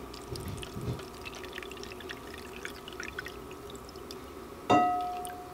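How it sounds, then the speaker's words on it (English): Water is poured into a coconut mixture in molds before freezing, a steady, quiet close stream with soft trickling, ending in a brief louder splash or clink near the end. "we can go in and add in the water. Don't fill it all the way too high"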